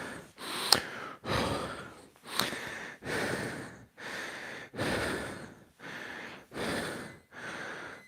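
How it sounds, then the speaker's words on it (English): Heavy breathing after a kettlebell workout set, with about nine loud, close, rhythmic inhale-exhale cycles, each a forceful gasp or sigh spaced roughly a second apart, with no talking. "Now we're going to take a minute to catch our breath."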